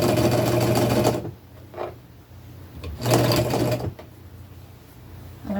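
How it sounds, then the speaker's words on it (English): A sewing machine stitching a t-shirt into a long-sleeved hoodie, running in two whirring bursts with pauses between them and a short clicking stitch in the quiet gap, close and clear with no speech. "I'm just going to sew without stretching, without pulling"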